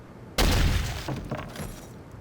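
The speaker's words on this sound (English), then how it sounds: "And there are sounds for heads getting destroyed" A single violent, wet head-smashing gore hit from the shooter Soldier of Fortune: a loud sudden crunching burst that decays with a few trailing splatters, alone with no talk.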